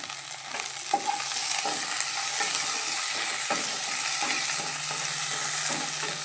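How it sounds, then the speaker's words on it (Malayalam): Curry leaves tossed into hot oil for a prawn and drumstick curry, giving a steady crackling sizzle with occasional stirring clinks and spoon scrapes, close and continuous with no talking. "നമ്മൾ കുറച്ച് കറിവേപ്പിൻ്റെ ഇല ഇടാം"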